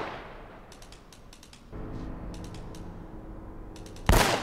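Gunfire in Uncharted: Drake's Fortune, heard as scattered clusters of sharp shots and rattling bursts over a low rumbling game backdrop, with one loud close blast near the end.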